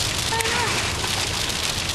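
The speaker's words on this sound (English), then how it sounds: "It's 50 in the middle of July, icing, hailing." Ice and hail pelting a vehicle during a July storm in Nevada: a dense, continuous patter of pellets striking the surface, loud and close throughout.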